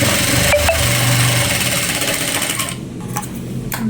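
A sewing machine runs steadily while stitching the shoulder of a school uniform coat, a close, continuous mechanical whirr that briefly eases near the end.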